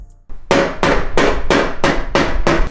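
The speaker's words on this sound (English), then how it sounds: "so I had to use the good old hammer." Loud, close metal hammer blows strike a Mazda Miata's fender in a garage to roll its lip, seven evenly spaced ringing impacts in a steady rhythm with no talking.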